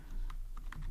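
A computer keyboard is typed on in a quick burst of three or four soft, close keystrokes over a low background hum.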